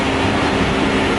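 A long CN freight train passing near Port Huron, its wagons rolling by as a steady, loud, continuous rumble and rail clatter throughout, with no talk.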